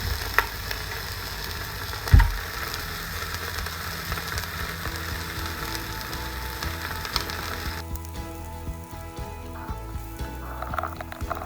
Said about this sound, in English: first, I want to sear the outside of the beef rib first